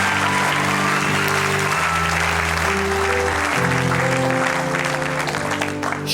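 A church congregation applauds in steady, dense clapping throughout, with a sustained musical tone underneath and some voices mixed in.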